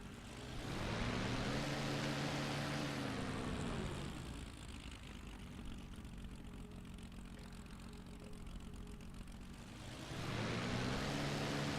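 Propeller aircraft engine in the IL-2 Battle of Stalingrad flight game, a steady loud drone that eases back slightly in the middle before swelling again toward the end, with no talk.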